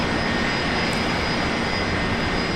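A Korean Air Boeing 787 Dreamliner takes off from runway 01 left at Brisbane Airport, its jet engines producing a steady, loud broadband roar that holds constant throughout with no talk.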